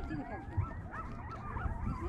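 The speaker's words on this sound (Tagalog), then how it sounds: "Ba't ang daming aso?" Several dogs bark, yip and whimper close by at a wetland park at sunset, their calls overlapping in a busy run over a background of people talking.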